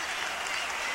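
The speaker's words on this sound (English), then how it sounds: "he's going to get a well-deserved round of applause" Crowd applause fills a basketball arena during a 1997 game between University of the Pacific and Stanford, a steady dense wash of clapping and crowd noise with no break.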